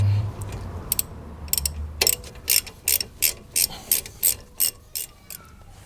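A socket ratchet turning a brake caliper bolt on a Ford Mondeo Mk5 during a front brake pad change gives a steady series of about ten crisp, evenly spaced clicks, close up, over a faint background hum.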